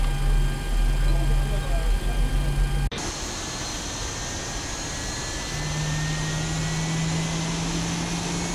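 A Boeing 737 jet engine in the X-Plane 11 flight simulator spins up with a broad steady roar and a rising whine, loud and continuous throughout; the tone shifts abruptly partway through.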